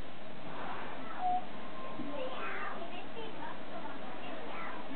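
A voice imitates a cat, giving a few quiet, drawn-out meows spread across several seconds.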